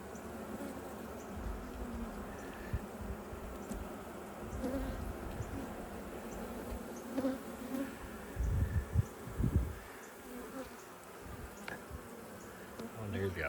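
Honeybees hum steadily around an open hive during an inspection, a soft continuous buzz with a few louder passes close by and faint voices under it.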